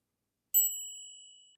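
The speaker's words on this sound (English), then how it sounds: "Then you get a nice bell." A single bright ding from the handlebar bell of an Urtopia JOY carbon eBike, struck once and ringing out cleanly as it slowly fades in otherwise quiet surroundings.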